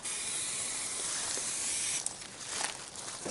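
Aerosol can hissing in a steady continuous spray onto saran wrap laid over a fiberglass mold for a kelp restoration airlift, close and loud for about two seconds, then softer broken spurts.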